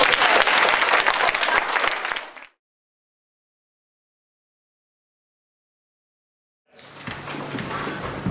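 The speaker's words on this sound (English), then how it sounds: "Have a round of applause." An audience of primary school pupils and adults at a mock parliament session claps loudly, stops for several seconds of silence, then breaks into a second round of applause.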